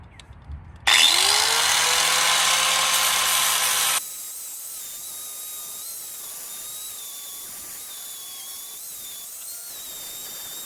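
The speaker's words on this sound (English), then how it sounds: "I'm gonna bust out the angle grinder. We're gonna clean this up, really see the extent of the rust" An angle grinder cleans rust off the rusted-out lower rear quarter panel of a Foxbody car, a loud, close, steady whine for about three seconds that then cuts out, leaving a faint hum.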